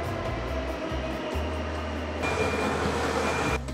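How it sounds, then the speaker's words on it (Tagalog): A Swiss SBB train pulling into a station: a loud, continuous low rumble and rolling roar up close, shifting in tone midway as the carriages pass, with no talk over it. "Ito na yung train, no?"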